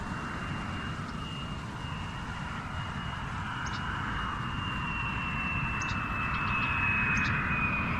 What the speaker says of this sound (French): Un avion qui vient de décoller de l'aéroport.